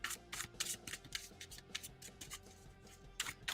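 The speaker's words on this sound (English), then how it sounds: "We'll just shuffle them all." A large tarot card deck being shuffled by hand, with quick bursts of riffling and flicking card noise, some short and some longer, close and fairly quiet with no voices.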